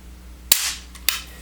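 A Sig Sauer P220 pistol is dry-fired, its trigger giving two sharp, close metallic clicks about half a second apart against a faint background hum.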